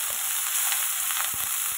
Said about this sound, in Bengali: আলুটা ভেজে নিই, ভেজে তুলে নেবো